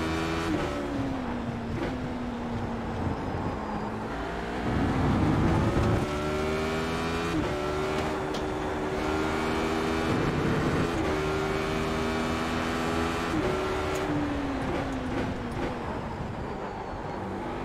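A Radical race car in the iRacing sim game makes a loud, continuous engine drone. Its pitch climbs and then drops back several times as it shifts gears, with no talk over it.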